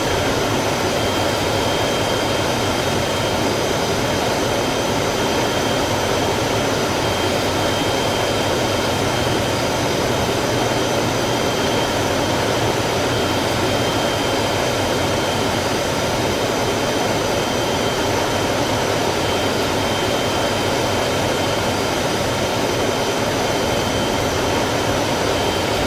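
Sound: Bell X-1A aircraft landing in Microsoft Flight Simulator 2020 video game

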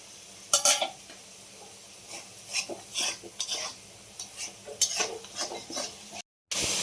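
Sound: stir-frying spice paste with green chilies

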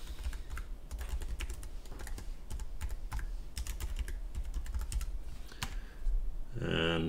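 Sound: typing login credentials on a computer keyboard

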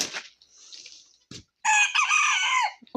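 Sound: roosters crowing

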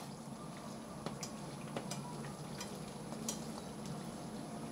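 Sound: egg paratha shallow frying in oil

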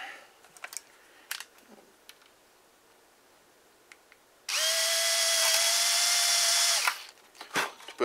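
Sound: power drill drilling a hole

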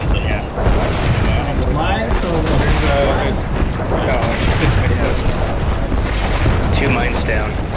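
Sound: explosions and gunfire in the video game Renegade X

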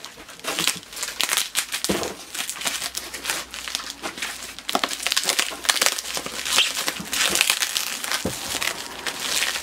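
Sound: unwrapping gift wrapping paper

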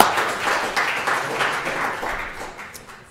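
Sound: audience applause after a talk

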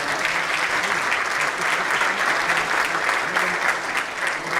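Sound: applause for Biju bhai

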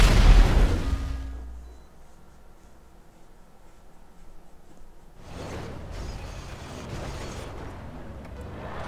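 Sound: explosions in a video game

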